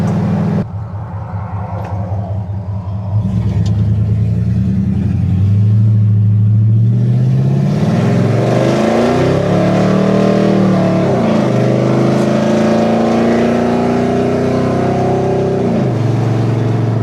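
LS-swapped 1971 Chevrolet C10 pickup cruising on a highway, a loud steady engine drone with rising gear tones and cabin rumble and rattle, close and continuous throughout.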